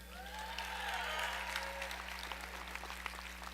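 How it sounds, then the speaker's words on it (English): A soft, distant round of applause from the crowd at a Ball State University awards event welcomes two presenters. Quiet whoops or whistles rise briefly early on, above the diffuse patter of clapping. "How about a big round of applause for Mick and Madison?"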